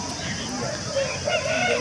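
A red peacock-coloured Tamil Nadu rooster, 17 months old, about 3 kg and 22 inches tall, sold at a market, calls in short clucking and crowing bursts close up over a steady background murmur.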